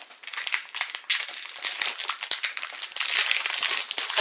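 Packaging for a Deadpool figurine from a GeekFuel unboxing is torn and crumpled open, a close run of crinkling, ripping plastic and paper in uneven bursts, with no talking.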